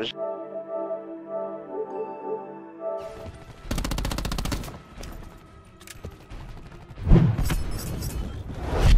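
Rapid gunfire from a competitive esports shooter match, bursts of shots and impacts crackling loudly over a steady game soundtrack, with brief quieter gaps between volleys.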